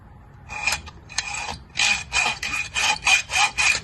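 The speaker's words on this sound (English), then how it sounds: "Just let the blade cut through the casting" Saw blade cutting through a Holley carburetor casting for racing, heard as rhythmic rasping strokes, a few irregular at first and then a steady back-and-forth series of about eight close, gritty pulls.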